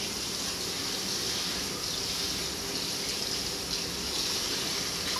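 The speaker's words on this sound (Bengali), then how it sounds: "এবার মুখটা ধুয়ে ফেলো।" Running water from a tap gushes steadily and close by while a child rinses her face, a continuous broadband splash with no clear breaks and no talk over it.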